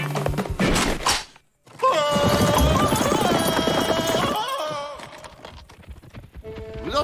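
Horse hooves clip-clop close by, mixed with a loud burst of music and thuds, then fading into quieter background sound.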